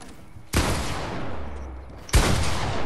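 Two sharp, loud gunshot blasts from Fortnite combat, the first followed by a long decaying rumble and the second a moment later, with no talk over them.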